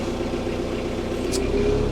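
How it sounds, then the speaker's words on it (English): A tractor engine runs at a steady mid-pitched hum while it lifts a one-ton load of pellets for a ranch pellet furnace, close and moderately loud, with someone talking over it. "as I lift, you can see I can lift that load with this tractor"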